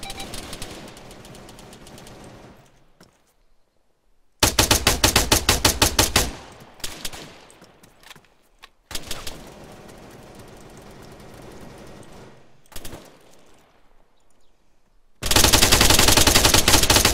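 Gunfire from a window in the ArmA 3 video game, with loud bursts of automatic fire that come and go between quieter stretches of ambient noise, ending in a sustained heavy volley.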